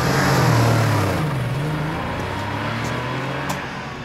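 A car driving away, its engine loud and near at first, then fading steadily into a low rumble.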